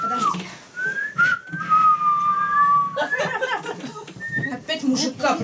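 Someone whistles a wavering tune in short melodic phrases, loud and close, with chuckles and speech breaking in around it.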